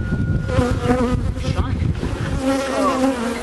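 Honeybees buzzing loudly and close around an open hive during acacia honey extraction, a dense, wavering drone that goes on throughout, with brief voices faint underneath.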